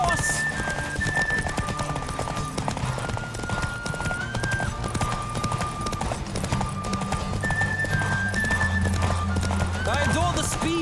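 A horse gallops at speed in The Witcher 3, steady hoofbeats drumming throughout with occasional whinnies, mixed under game music and ambient sound.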